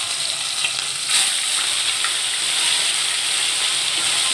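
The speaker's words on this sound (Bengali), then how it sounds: "তো মাছটা আমি একটা একটা করে ছেড়ে দিচ্ছি, মাছটা ভাজা হতেই টাইম লাগবে" Frozen morola fish fry in hot oil, giving a loud, steady broadband sizzle that swells slightly after the first second as more pieces go in, with no talking.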